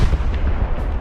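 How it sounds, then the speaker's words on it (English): Artillery shells explode against the hard granite rock of the Bengtskär lighthouse island during a 1941 battle, heard as a continuous loud, deep rumbling boom close by. "Artillery shells slammed into the hard granite surface of the Bengtskär, explosions sending high-speed fragments in all directions"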